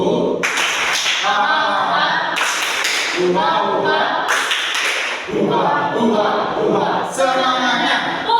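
Group rhythmic clapping during a tepuk semangat ice-breaker in a classroom, students standing and clapping in patterned bursts with chanted voices, loud and close, in several repeated rounds.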